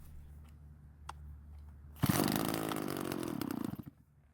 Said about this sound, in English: I really do like the sounds these older chainsaws make.